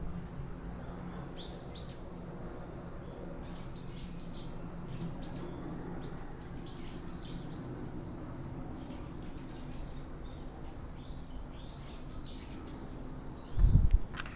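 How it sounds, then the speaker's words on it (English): Birds chirp outdoors in short, repeated high tweets scattered across the clip, fairly faint over a steady low background rumble, ending with a brief bump. "do you hear the birds?"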